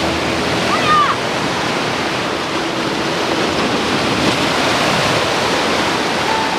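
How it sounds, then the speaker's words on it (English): A small waterfall splashing over wet rocks by Lake Superior, a loud, constant rushing wash of water close by, with no pauses. "what a beautiful little waterfall"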